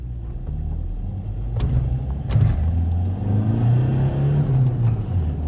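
A van drives around the Nuremberg racetrack, its engine rumbling steadily up close from inside the cabin, with brief knocks and bumps along the way.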